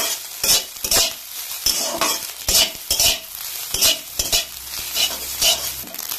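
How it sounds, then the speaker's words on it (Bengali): Fish roe frying in a pan is stirred with a utensil, giving repeated scraping strokes in a steady rhythm over a continuous close sizzle, with occasional light metal clinks and no talk. "এইভাবে ডিমটাকে আপনার নাড়িয়ে নেবেন, তাহলে ডিমটা ছাড়া ছাড়া হবে"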